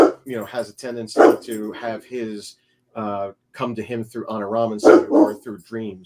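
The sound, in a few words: dog barking at someone outside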